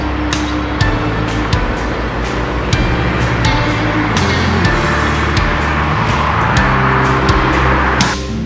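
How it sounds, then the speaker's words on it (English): Steady road traffic rumbles along a route climbed by an e-bike, with cars and trucks passing nearby in a continuous wash of engine and tyre noise, louder near the end. "There's a lot of traffic today"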